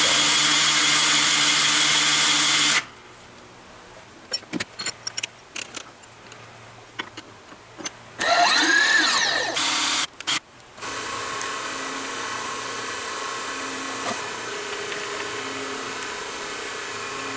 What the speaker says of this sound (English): so I can drill clearance holes